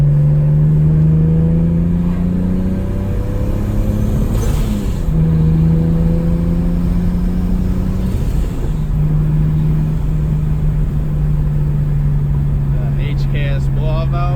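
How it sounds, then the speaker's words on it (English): Boosted Nissan 350Z with a turbo and an HKS blow-off valve, loud idling and revving close by, engine pitch rising and falling through a few blips, with faint hissing bursts near the end. "HKS blow-off valve sounds so sick."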